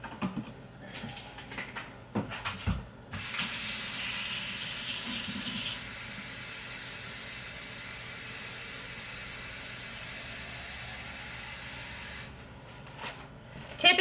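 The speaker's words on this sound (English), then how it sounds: "we're gonna grab a bottle, we're gonna fill some water" Water runs hard from a kitchen tap into a bottle, a steady loud hissing spray lasting several seconds after some handling clatter, then cutting off with more clunks at the end.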